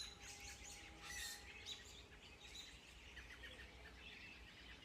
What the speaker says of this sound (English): Some kind of a flock of birds in the trees.